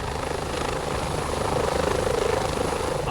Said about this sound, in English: A helicopter arrives to airlift the most critical cases to Long Island Community Hospital.